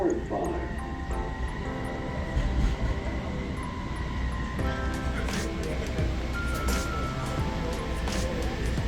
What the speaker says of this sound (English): We are arriving at Terminal 7. This train will stop at Airline Terminals 8, 1, 4, 5, and 7.